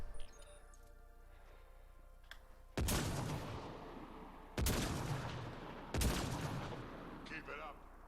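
A sniper rifle in Mass Effect: Andromeda fires three loud, sharp shots at roughly two-second intervals, each followed by a decaying echo, over a quiet ambient game background.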